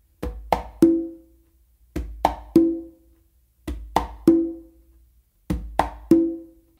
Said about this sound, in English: but I normally do a bass with my non-dominant hand on the conga